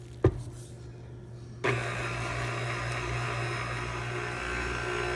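Stand mixer starting up to mix pizza dough with yeast, a sharp knock, a brief pause, then a sudden steady motor whir that holds loud and even to the end.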